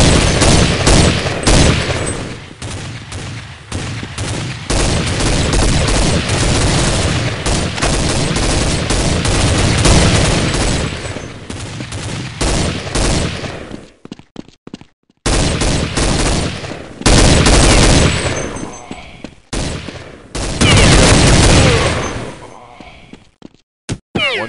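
Gunfire from the video game Counter Strike 1.6 crackles in dense, loud automatic bursts and repeated shots, broken by brief pauses, with voices heard among the shooting.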